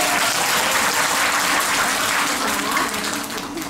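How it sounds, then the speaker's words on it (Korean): A live concert audience claps in a dense, continuous burst of applause at a broadcast station's anniversary celebration show. The clapping stays loud and then fades slightly at the end. "여러분의 박수가 필요합니다."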